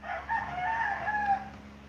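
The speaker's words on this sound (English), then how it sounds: "good to hear roosters" A rooster crowing close by, one sustained call with a harsh, wavering tone against a steady low background hum.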